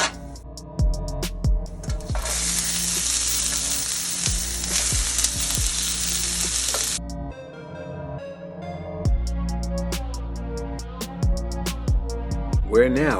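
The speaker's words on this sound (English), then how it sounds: "We're going to saute these onions until they become soft." Onions sizzling on a flat griddle beside crisped shaved beef for a Philly cheesesteak, a bright steady hiss broken by scraping and stirring clatter from a spatula, fading briefly before the frying noise returns.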